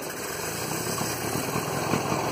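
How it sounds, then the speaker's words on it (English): A tractor engine idles on a snowy farm, a continuous, even, fairly loud mechanical drone with a slight vibrating rumble and no speech over it. "so Craig tied it to the tractor"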